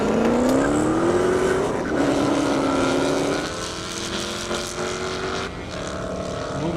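A big Ducati motorcycle races flat out down a half-mile airstrip at Indy; its engine screams loud and close, pitch climbing through gear changes, then fades slightly as it pulls away.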